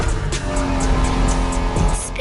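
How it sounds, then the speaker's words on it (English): A 1990s Honda NSX sports car races in the video game Motorfest: a loud, continuous engine drone with a steady whine, heard alone for a couple of seconds. "Are you familiar with the Honda you're driving? The NSX isn't your regular street car."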